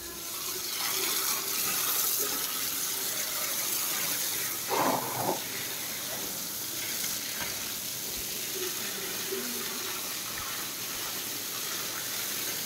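Water runs steadily from a hose pipe while cows are washed outdoors, a continuous hissing splash with a brief louder gush midway, moderately loud throughout with no talk.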